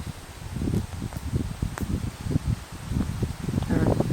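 Leaves rustle in a breeze outdoors among trees, a steady soft crackling swish with irregular gusts and brief louder flurries, continuous and close throughout.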